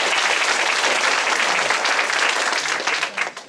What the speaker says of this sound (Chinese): 拍手一个。